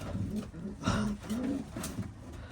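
A pigeon hen coos softly in a couple of short, low murmuring bursts, close by and faint, with someone talking quietly around it.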